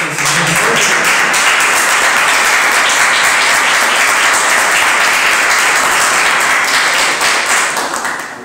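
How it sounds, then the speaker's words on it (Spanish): Loud, dense congregational applause fills a church service, a continuous roar of many hands clapping close by, tapering slightly at the end. "un aplauso al Señor."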